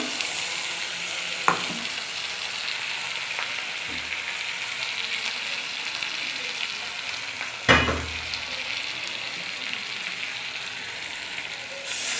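Ginger garlic paste fries in a pan for a Bengali chicken curry, a constant close sizzling hiss that never lets up, broken by a couple of sharp stirring knocks, with no talking.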